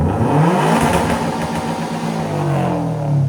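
A 2.5L turbocharged Subaru WRX STI, 2015-2021 model, revs through its cat-back or custom exhaust, a loud steady rumbling engine note that swells and eases over a few seconds, close by.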